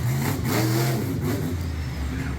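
Greg Bursey's GMC Lumberjack monster truck at a Middletown, New York event, its big engine revving loud and close in rising and falling bursts, roaring steadily with no talk over it.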